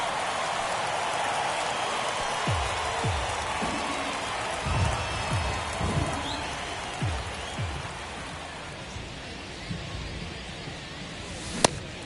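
Steady rain hisses throughout a baseball video game during a rain delay, with faint crowd murmur and occasional soft thumps underneath and a sharp click near the end.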